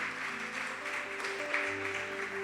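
A church congregation claps for the Lord during a service, fairly faint but steady applause blended with soft sustained keyboard chords in the background.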